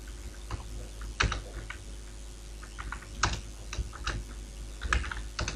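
Someone types HTML code on a computer keyboard, with irregular clusters of crisp, close key clicks and a few louder strikes over a faint room hum.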